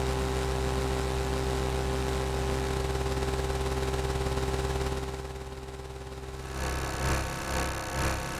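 A latched note on an ASM Hydrasynth synthesizer, a sustained buzzy tone held steadily, dipping and changing texture toward the end as the sound is adjusted.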